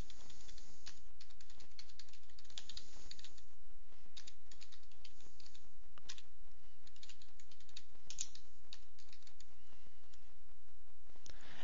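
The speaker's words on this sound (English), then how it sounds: "So if we type that into the link box" Rapid typing on a computer keyboard, with dense, steady key clicks running continuously at close range and no talking.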